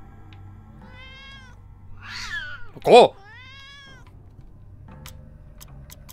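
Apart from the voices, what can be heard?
cat meowing in the video game Yuppie Psycho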